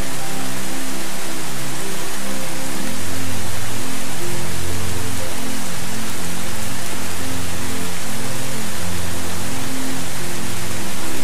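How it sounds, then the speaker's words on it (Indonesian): Steady, loud rain falls continuously on surfaces, a dense even hiss with no voices. "Hujan."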